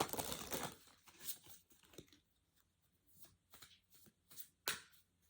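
Tarot cards are shuffled in quick, papery riffles and soft slaps, close by and fairly quiet, with short gaps between bursts.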